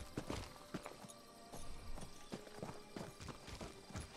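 Horse hooves clop in the video game The Elder Scrolls Online, a steady run of faint, evenly spaced steps repeating for several seconds with no talk over them.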